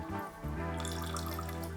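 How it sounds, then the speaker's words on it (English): Water trickling through a sugar cube into a glass of absinthe at a bar, a soft continuous pour with faint drips over a low steady hum, no voices. "as we pour water through, it will become more and more cloudy, and it will literally change colour as you fill the glass"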